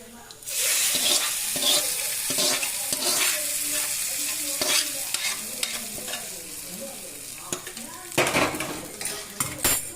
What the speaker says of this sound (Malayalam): കറിവേപ്പില അങ്ങനെ കടുക് വറയെല്ലാം ശരിയായി ഇനി നമ്മളിതിനെ കറിയിലേക്ക് ഇടുന്നു